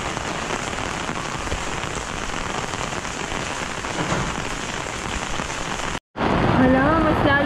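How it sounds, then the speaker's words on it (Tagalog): Heavy rain pours steadily onto surfaces in a Nepal village, a dense, loud wash that cuts off briefly before a voice speaks over the continuing downpour. "Hala, mas lalong pang grumabe ang ulan."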